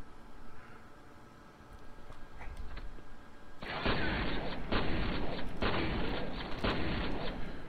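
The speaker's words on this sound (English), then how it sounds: "I hear a turret." Automated turret in F.E.A.R. Extraction Point firing a sustained, loud burst of rapid gunfire with a couple of brief gaps, starting abruptly after a few seconds of quiet ambient game noise.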